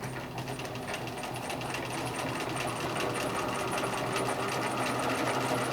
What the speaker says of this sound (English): it's going to do the zigzag stitch on the left hand side